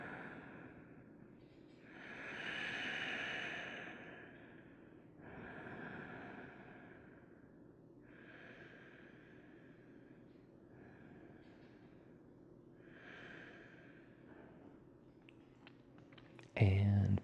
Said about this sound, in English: just taking 3 to 5 deep, slow breaths